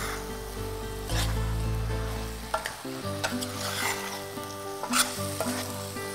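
Chicken curry with coconut powder and tomato pieces sizzles in a pan while a spoon stirs it, giving a continuous frying hiss broken by several sharp scraping strokes, with no talking.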